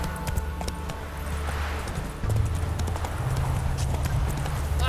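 Horse hooves clip-clop steadily in The Witcher 3, a continuous rhythmic trot over game ambience and music, fairly close and moderately loud throughout.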